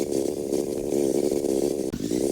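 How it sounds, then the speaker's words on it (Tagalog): A motorcycle exhaust revs in a loud, steady, buzzing drone that holds throughout, with a brief dip and sputter near the end. "Pati yung tunog ng tambucho."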